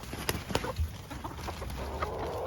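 Backyard homestead chickens cluck excitedly over a favorite treat, a lively burst of close, overlapping clucks and squawks with a steady hiss in the background.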